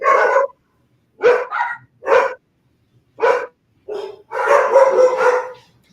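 Dogs bark close by in a series of loud, separate barks with short gaps, ending in a longer run of overlapping barking.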